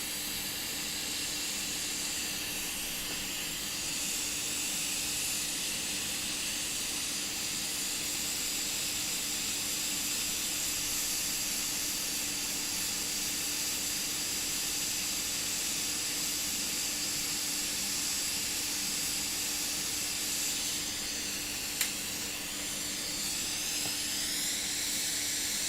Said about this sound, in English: this fume extractor's great